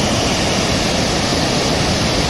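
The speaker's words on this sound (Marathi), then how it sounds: "वॉटरफॉल" A village waterfall roars steadily, a loud, close, unbroken rush of falling water with no voices heard.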